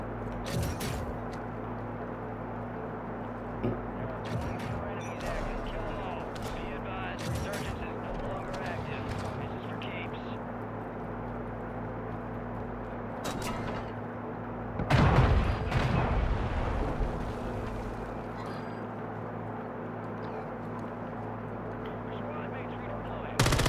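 Gunfire in Call of Duty Warzone rattles through busy game audio, with a louder burst of shots and impacts midway and more bangs near the end, while players talk over it.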